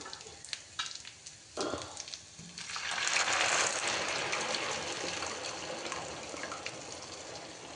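Dal (lentils) for sukto is added to a cooking pot, starting with a few taps and a pour, then a soft, steady sizzling bubble that continues quietly without talk.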